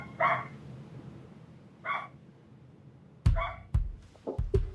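A dog barks in short separate bursts, a few single barks spaced apart and then a quicker cluster of sharper yaps near the end, fairly close and moderately loud over a quiet background.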